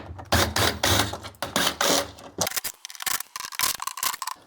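On a C8 Corvette, the plastic air filter cover is worked loose and pulled off, giving close scraping and rubbing with uneven clicks and creaks as the tight seal releases.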